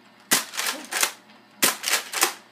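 A Nerf toy gun fires at a Pepsi bottle, making two bursts of three quick, crisp plastic clicks each, close and clear against near silence.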